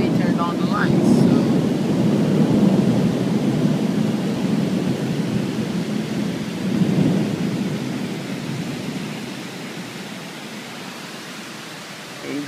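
A nighttime thunderstorm at a shopping centre in São Paulo, heavy thunder rumbling loudly at the start and again midway, then fading away under a steady wash of rain and wind.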